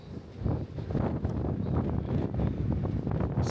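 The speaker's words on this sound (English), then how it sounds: "It's a bit windy, guys." Strong sea wind on a cruise ship deck buffets the microphone in a steady, rumbling roar with gusty surges, loud and continuous throughout.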